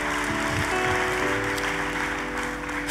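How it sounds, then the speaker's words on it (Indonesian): A church congregation applauds together for God after a sermon line, a steady wash of many hands clapping that fills the room at a fairly loud, even level throughout. "Tepuk tangannya yang paling meriah buat Tuhan kita."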